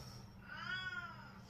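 A house cat gives a single drawn-out meow, rising and then falling, close but soft against a quiet indoor background hum.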